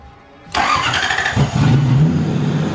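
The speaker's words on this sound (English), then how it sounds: "Man, this sounds angry." After a quiet moment, a Lexus LS 400 drift car engine cranks and catches, roaring up loudly and then holding a rough, rumbling idle, close and strong.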